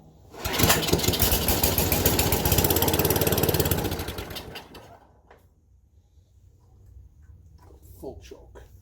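A snowblower engine with a faulty governor, run cold on full choke, starts up and roars loudly and steadily for about four seconds before winding down to a quieter idle, with talk over the end.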